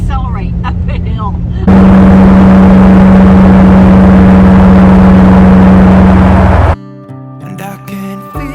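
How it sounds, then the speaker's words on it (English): A vehicle engine fitted with a new carburetor and an open air filter accelerates uphill on a mountain road, giving a loud, steady droning roar that cuts off abruptly near the end. "Listen to what my new carburetor and open air filter sounds like when I go up a mountain or go accelerate up a hill."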